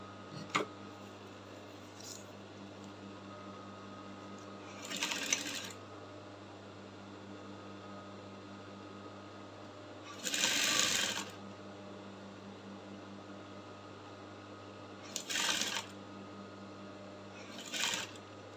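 A sewing machine stitches a bra cup onto a corset at close range, running in short separate bursts roughly every five seconds with quiet pauses in between and no talking.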